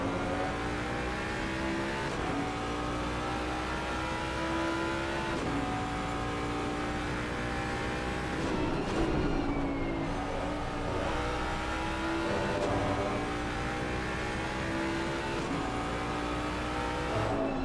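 Racing cars lap the Imola circuit during a Race Club UK Shooting Stars Cup qualifying session. Engines drone continuously with rising and falling revs as cars pass in turn, sometimes close and loud, sometimes further off, with brief upshifts along the way.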